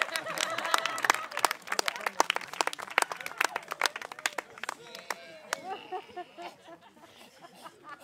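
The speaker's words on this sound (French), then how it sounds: "Voilà, on applaudit Willy et Link." Audience clapping and cheering at a French dance battle, sharp scattered claps building into steady applause and then thinning out, with crowd murmur and a voice underneath.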